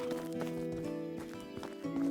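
Horses in the medieval farming game Medieval Dynasty clop their hooves in uneven beats over a steady ambient background, with a short whinny rising near the end, all fairly faint.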